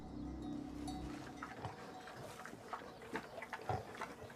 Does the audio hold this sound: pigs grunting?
yes